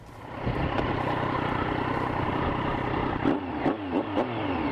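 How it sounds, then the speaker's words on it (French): A Triumph Street Triple 675 motorcycle roars under load, then downshifts with a series of quick blipped revs and crackles, loud and close, no voices. "ce bruit quand tu rétrogrades, nom de Dieu comment c'est superbe"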